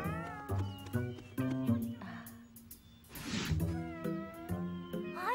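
Stray cats in an animated cartoon meow repeatedly in overlapping, tonal calls with a music-like backing, one voice after another at close range.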